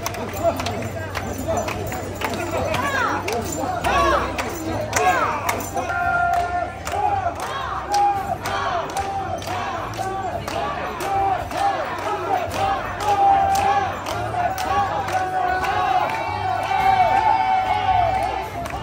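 Crowd at a street ceremony in Japan, many voices singing and shouting together over sharp rhythmic claps, a lively close mass of chanting and clapping that continues throughout.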